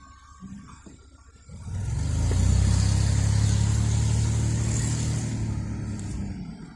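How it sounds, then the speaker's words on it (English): A car comes up from behind on a park road, its engine swelling from faint to a steady, fairly loud drone that lingers before easing slightly. "there's a car behind me."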